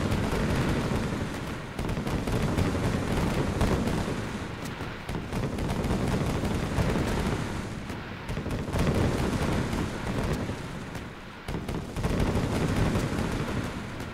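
Fireworks burst in a zombie video game as a loud, sustained barrage of booming, crackling explosions that rolls on for fourteen seconds with only brief dips, close and heavy, with no talking.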